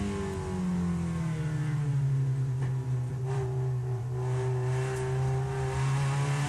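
A Ssangyong race car engine is heard from onboard during a race at Hampton Downs, a loud, continuous drone that rises and falls with gear changes and throttle, with no talk over it.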